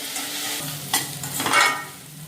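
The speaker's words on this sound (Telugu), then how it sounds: "అల్లం వెల్లుల్లి పేస్ట్, గరం మసాలా, కాస్త పసుపు అండ్ కారం, మన టేస్ట్కి తగ్గ కారం వేసేసుకొని కాస్త ఫ్రై అవ్వనివ్వండి" Ginger garlic paste, garam masala, turmeric and chili powder fry in a pan, giving a steady close sizzle broken by a few scraping stirs.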